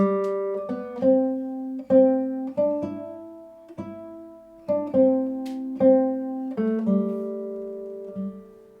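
Plucked acoustic guitar plays a fingerstyle melody with a lilting, uneven swung rhythm, each note ringing out clearly with no talking.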